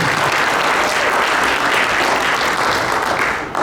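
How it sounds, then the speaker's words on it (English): Steady, full applause from the audience at a Derby inauguration ceremony for the city treasurer being sworn in, dense and continuous, easing slightly at the very end. "Give her a nice round of applause when she's been sworn in for her next term"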